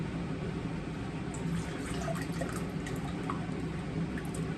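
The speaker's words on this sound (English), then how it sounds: "So we're gonna take our sauce and pour it" Beef bourguignon sauce pours steadily into a container, a soft continuous liquid trickle and splash running without pause, fairly quiet and close.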